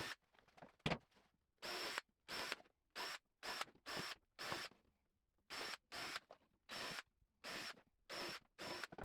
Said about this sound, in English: I use a countersink drill bit here.